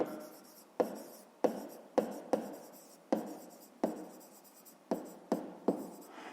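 A pen writes numbers on paper for a fifth-grade math exercise, a series of about a dozen distinct close scratchy strokes with short pauses between them, quiet and alone.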